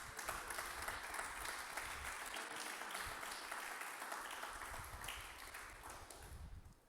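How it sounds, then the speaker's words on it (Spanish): A church congregation gives a long, dense round of applause during a service, a continuous wash of clapping that fades toward the end. "¿Cuánto le da un aplauso al Señor?"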